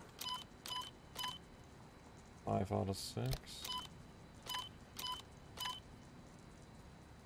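Puzzle panels in Resident Evil 4 Remake give off a run of short, evenly spaced electronic beeps, with a brief burst of denser tones midway, as someone talks briefly over them.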